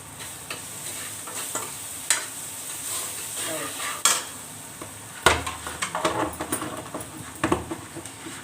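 Steady sizzling of a spice tempering frying in a pan, with occasional clinks and scrapes of a spoon stirring against metal, no voices.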